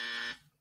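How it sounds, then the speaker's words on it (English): A game show timer buzzer fires a single loud, harsh tone for about a third of a second, then cuts off into a fading tail, with no voices over it. "if the 3 seconds passes, you're going to hear that buzzer."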